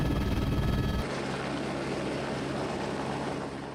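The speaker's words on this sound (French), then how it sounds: "Nous utilisons un hélicoptère Écureuil AS350 B3+," An Airbus Écureuil AS350 B3+ helicopter drones steadily in the distance, a constant whirring hum that briefly sounds louder at the start before settling to an even level.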